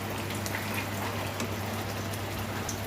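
Spice paste with black pepper frying in a pan for chicken roast, giving a steady dense sizzle and crackle that stays constant and fairly close with no talking.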